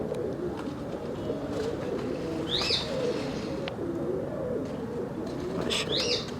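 Pigeons cooing in a loft, low repeated throaty coos over a steady background hum, with a few brief higher chirps from nearby birds.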